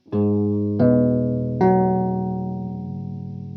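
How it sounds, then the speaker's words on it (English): A LEKATO PS-01 pitch shifter pedal bends a guitar chord, three struck chords ringing out in turn with a warbly, unsteady tracking artifact as the pitch shifts, sustaining and slowly decaying with no voices. "There's a tracking noise that you can hear the pitch change with the chord"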